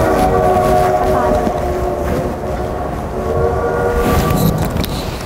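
A train approaching during a living-history re-enactment of Lincoln's funeral train at the Old State Capitol, heard as a loud, steady low rumble with sustained horn- or whistle-like tones over the top, continuous throughout.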